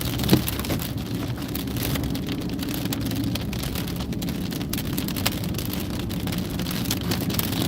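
Heavy rain from a thunderstorm in northwest Kansas drums steadily on a vehicle, a dense continuous downpour with a low rumbling bed beneath and occasional sharper drop hits, loud and unbroken.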